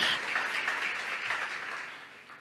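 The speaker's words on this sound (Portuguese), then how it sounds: "Você pode aplaudir o Senhor?" A church congregation applauds during a Portuguese-language sermon at a worship service, a dense, steady wash of many hands clapping that carries through without pause and thins slightly at the end.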